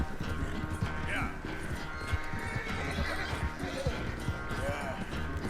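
A horse in the video game Red Dead Redemption 2 neighs and whinnies while its hooves clip-clop steadily, with someone speaking over the game sounds.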